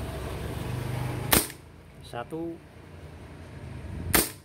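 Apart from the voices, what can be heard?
Beretta PT92 4.5mm air pistol firing semi-auto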